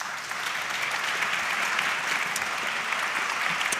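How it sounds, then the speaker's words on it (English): An audience at a panel discussion claps, a dense, even round of applause that holds steady and close for several seconds with no talking over it. "Great applause."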